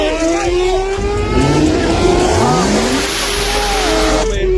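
A racing S10 pickup truck revs hard nearby, its engine pitch climbing and sweeping through gear changes over a steady roar, with people talking over it.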